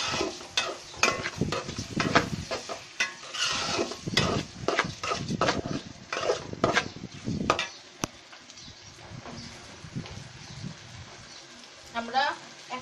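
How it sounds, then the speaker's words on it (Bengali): Rice being stirred and fried in a pan for bhuna khichuri, with repeated scraping and knocking strokes of a spoon in a lively rhythm over a faint sizzle, close by, with some voice in the background. "আমরা চালটাকে এখন খুব ভালো করে নেড়ে ভেজে নেব।"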